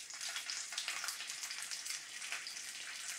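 Vegan bacon frying in oil in a pan, a steady close crackling sizzle with dense spitting pops throughout, no talk.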